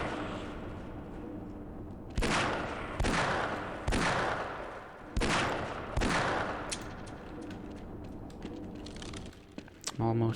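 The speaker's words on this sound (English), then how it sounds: "Guess I'll go ahead and switch to the Magnum then." Several sharp, heavy .357 Magnum revolver shots in Half-Life, spaced about a second apart, loud and close over background game noise, with a few lighter clicks and a voice near the end.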